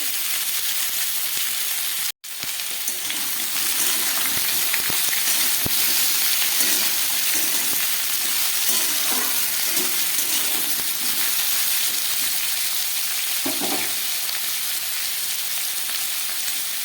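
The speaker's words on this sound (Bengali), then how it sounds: "পেঁপে আলুটাকে একটু ভেজে নিই।" Papaya and potato fry in a pan with a continuous, even sizzle and hiss close by, a few soft stirring knocks now and then, and a short dropout early on.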